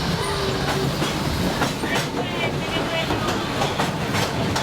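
A train rumbles along the rails with a steady, loud roar and faint rhythmic clacking of wheels, heard from inside with a constant background hum.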